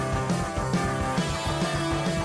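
An instrumental plays as a recorded track, a dense sped-up waltz with guitars and a steady pulsing rhythm, loud and continuous with no talking over it.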